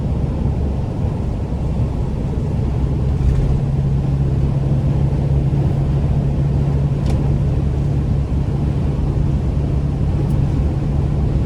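A 2014 Mercedes-Benz Sprinter 2500 conversion van cruising at steady speed, heard from inside as a constant low engine and road drone with a faint steady hum, loud and unbroken, no talking.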